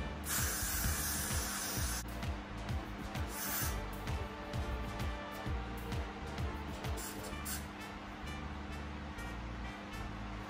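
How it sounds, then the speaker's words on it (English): A steady hiss of spray runs through the clip, with a brief louder burst at the start and repeated clicking or ratcheting sounds underneath. "You want to spray around your ear as well,"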